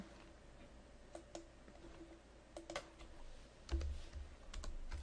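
A few quiet, isolated computer keyboard clicks, spaced apart like a short key-combination shortcut, tapped in an otherwise still room.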